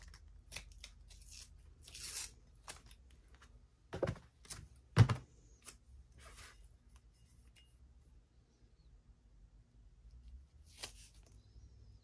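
Scissors snip off an extra piece during a sublimation craft project, giving a few faint, close cuts and rustles with a couple of sharper clacks, mostly quiet between them.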